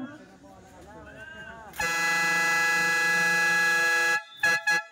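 A person talks briefly during a basketball game, then a loud electronic buzzer blares for about two seconds, followed by two short, sharp buzzes.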